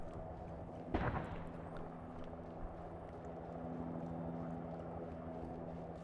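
A single artillery strike in the Arma 3 combat game booms once, distant and muffled, then fades into a low steady rumble of engine-like drone, with no talking.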